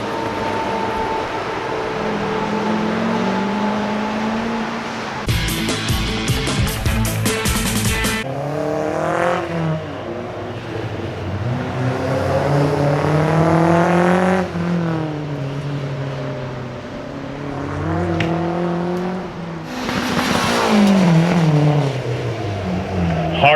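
Race car accelerating around a track at the Carlisle Ford Nationals, engine roaring and climbing in pitch through several gear shifts, with a harsh broadband burst early on, loud and near, and a voice audible in the background.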